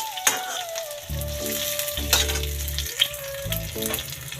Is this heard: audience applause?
no